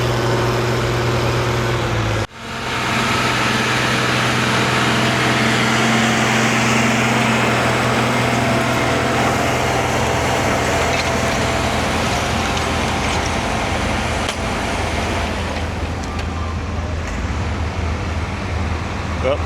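A tractor at a tractor pull show in Rantoul, Illinois roars in a loud, steady drone for about twenty seconds, with a brief dip early on and heavy, continuous engine noise throughout.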